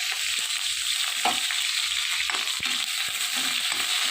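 Onions fry in hot oil over a high flame, giving a steady, close sizzle with a few soft stirring scrapes, heard alone without talk.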